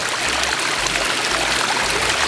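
Water from a DIY pondless backyard waterfall trickles and splashes in a steady, close, unbroken rush.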